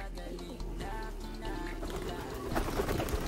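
Pigeons landing on a person's head and cooing, soft low coos close by over a brief stretch, with faint background noise.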